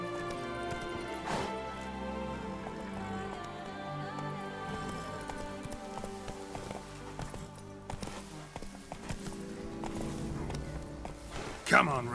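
Roach, Geralt's horse in The Witcher 3, gallops with rhythmic clip-clopping hooves under game music and ambience, with a spoken line partway through.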